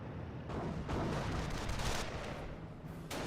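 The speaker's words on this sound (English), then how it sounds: "One of the sector artillery rounds did hit his own Panzer Grenadier" Sector artillery barrage in the Company of Heroes video game, a dense stretch of loud overlapping blasts and rumbling gunfire running continuously, with busy battle noise and no clear gaps.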